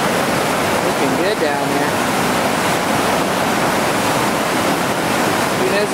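Whitewater roars steadily through Scales Rapid on the Gauley River at about 2800 cfs, a loud, continuous wash of churning water with someone briefly talking over it.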